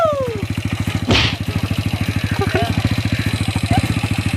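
A motorcycle engine running with a fast, even thumping idle close by, with a brief clatter and people talking over it.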